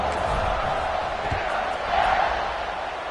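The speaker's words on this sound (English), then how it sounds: "this crowd is buzzing after that last score" College football stadium crowd buzzing after a score, a steady dense roar of many voices that swells briefly near the middle, with no clear talk standing out.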